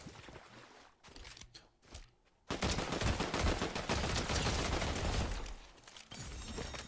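Rapid gunfire from a gun tap-fired in a video game, with a few separate sharp shots and then a long dense burst of loud, crackling reports with mechanical clatter.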